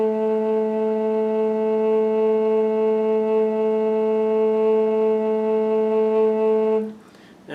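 Large-bore bass A flute tuned to 432 Hz sustains one steady, rich, low note without vibrato for nearly seven seconds, then stops with a breathy release, close and alone.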